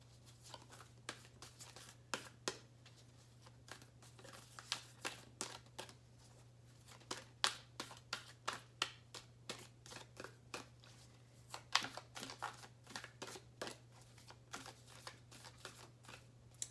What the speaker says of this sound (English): You guys can fast forward through this if you're not wanting to listen to me shuffle.